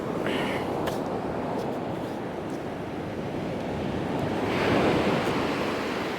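Sea waves washing onto Bee Sands Beach in South Devon, a continuous close roar of surf that swells louder toward the end, with some wind buffeting the microphone and no talking.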